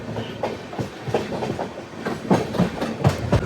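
The Charminar Express rolls along its rails with rhythmic clickety-clack wheel beats over joints, loud and close, with a steady rumble beneath and no voices.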